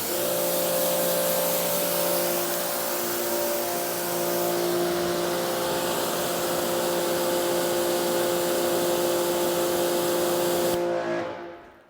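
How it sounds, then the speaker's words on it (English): A forced air blower drying the clear coat of an old beater car, a loud steady roaring whoosh with a constant whine, running close and unbroken for about eleven seconds before cutting off. "very easy to dry with forced air"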